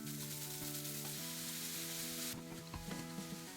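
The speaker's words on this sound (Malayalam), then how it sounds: "ഇത്രയും ഇൻഗ്രീഡിയൻസ് ചേർത്ത് തീ ഏറ്റവും ലോ ഫ്ലെയിമിൽ തന്നെ വെച്ചുകൊണ്ട് തന്നെ ഏകദേശം 1 മിനിറ്റ് നേരം ഇളക്കി" A sugar and cardamom filling is stirred in a pan over a low flame, with a soft continuous sizzle and occasional spoon scrapes and clinks against the pan.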